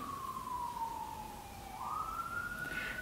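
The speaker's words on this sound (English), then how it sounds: "We have sirens going on." A siren wails steadily, its tone dipping and then rising again, moderately loud over faint background rumble, with no voices.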